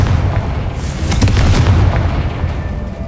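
Confringo fire spell explosion from the video game Hogwarts Legacy, a loud booming blast that swells around the middle over a low rumbling game backdrop and fades without fully stopping.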